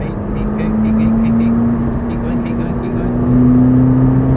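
A car's engine holds a steady, loud drone that slowly climbs in pitch as power is fed in progressively on a track, with the engine continuous throughout and an instructor talking over it.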